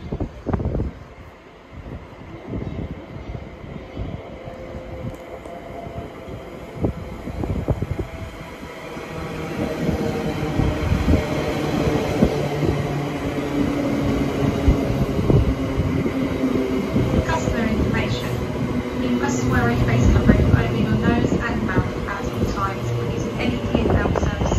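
A five-coach Greater Anglia train at Stratford station bound for London Liverpool Street, its rumble gradually swelling louder as it draws in, with station announcements and voices over it.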